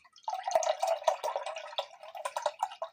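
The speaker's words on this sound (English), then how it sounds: "all I do is pour in the oat milk that I'm not going to use into" Oat milk pours into a container in a home kitchen, a steady gurgling, dripping stream with uneven splashes, close and fairly loud, with no talking.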